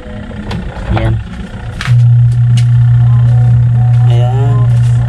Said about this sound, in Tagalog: maririnig po ninyo yung timer tumutunog